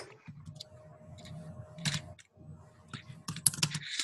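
Typing on a computer keyboard during an online Spanish class, with quick irregular key clicks in short bursts under a low steady hum and faint background noise.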